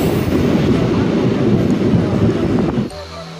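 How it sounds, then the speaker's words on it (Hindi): A train rolls along the rails as a loud, steady rumble with a rushing roar close by, then the noise drops off sharply near the end. "ट्रेन रोसड़ा से निकल चुका"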